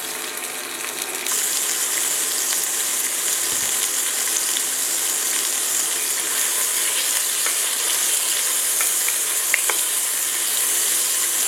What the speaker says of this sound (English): we're gonna start by adding the andouille sausage